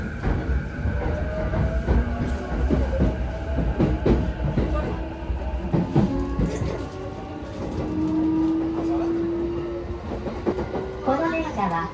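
A Chuo Line rapid train bound for Tokyo runs along the rails with steady rumbling and rhythmic clickety-clack, a rising whine from the motors, and an onboard announcement voice over it.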